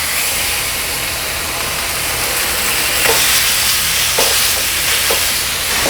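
Seasoned salmon pieces hit a hot pan and sizzle loudly and steadily, a dense close hiss of spitting oil with a few faint clicks toward the end.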